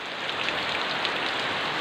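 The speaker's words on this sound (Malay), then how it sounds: "Siangnya lagi hujan deras." Heavy, sudden rain pouring down around a catfish pond, a dense steady hiss of drops hitting surfaces, loud and unbroken with no voices.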